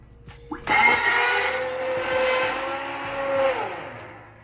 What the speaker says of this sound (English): now I'm gonna use our famous immersion blender and we're gonna get it all blended up